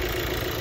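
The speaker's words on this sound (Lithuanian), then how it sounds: "Variklis dirba" A VW Golf 1.4 petrol-hybrid engine runs at idle with a steady mid-low hum, heard alone in a very short stretch.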